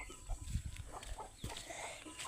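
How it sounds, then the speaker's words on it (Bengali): Several chickens of mixed kinds, including white poultry-type hens, cluck in short irregular bursts close by, with faint background noise and no clear crowing. "এইটা হচ্ছে পুলিশ মুরগি"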